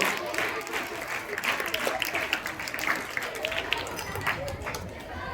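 Schoolchildren clap together at a school prize-giving ceremony, a steady dense wash of applause filling the room for several seconds without a break.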